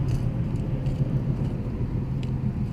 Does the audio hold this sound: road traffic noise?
yes